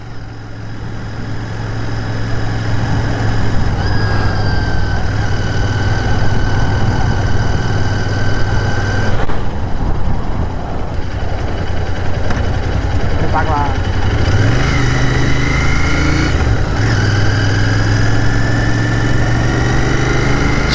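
A Royal Enfield 650cc motorcycle engine idles steadily with a deep, even hum for the whole stretch, then the pitch shifts briefly near the end before settling again.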